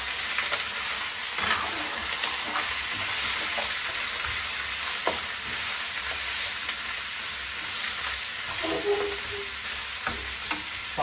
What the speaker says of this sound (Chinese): 爆炒，